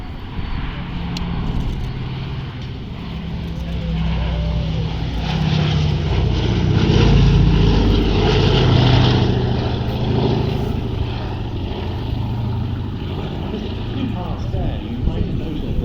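A Boeing B-17 Flying Fortress, "Sally B", drones overhead at the East Kirkby airshow, its piston propeller engines making a steady broad roar that swells toward the middle, with a voice talking over it throughout.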